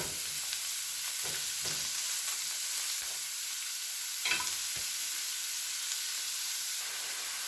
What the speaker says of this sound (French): je mets maintenant mes endives coupées finement à cuire pendant quelques minutes